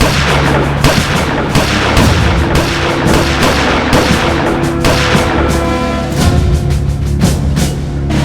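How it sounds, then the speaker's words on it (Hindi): Rapid gunfire erupts after a shouted command to load and fire shoulder-held guns, loud dense bursts of shots cracking repeatedly throughout with no pause. "गन कंधे पे, लोड करो, फायर।"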